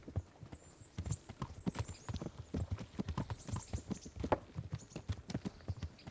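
Steady, rapid hoofbeats clip-clop in a quick, even rhythm, like a horse galloping, in the video game Kingdom Come: Deliverance, with a faint high tone lingering in the background.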